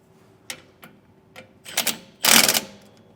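Hub nuts on a trailer are tightened in a star pattern, with a few sharp metallic clicks and ratcheting bursts near by, separated by short pauses and ending in a louder rattling run.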